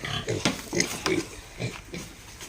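Pig grunting during deworming on a farm, a series of short close grunts and squeals repeating every half second or so, loud and alone without talk.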